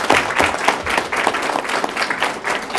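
A room of people at a school board of education meeting applauds teachers being honored, with dense, steady clapping that carries evenly through the whole stretch without talk.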